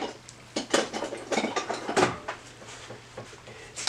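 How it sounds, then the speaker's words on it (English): A screwdriver prying and bending metal tabs on an aircraft exhaust manifold during installation on a homebuilt Sonex, giving close, irregular metallic clinks, scrapes and clicks in uneven bursts. "Let me see if I can do it with a screwdriver."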